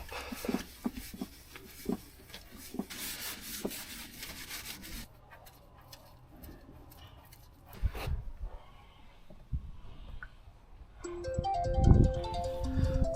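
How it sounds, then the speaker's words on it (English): A mobile phone ringtone chimes up near the end in a shed, interrupting scraping and rubbing noises from work on an old oil filter. The tonal ring is close, fairly loud, and plays alone without talk. "Phone always rings at the worst time."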